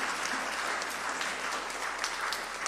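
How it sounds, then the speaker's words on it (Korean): A church congregation applauding in thanks during a Christmas service, a steady wash of clapping that fills the whole stretch with no voices over it. "이 땅에 오신 예수님께 감사와 영광의 박수를 올려드립니다."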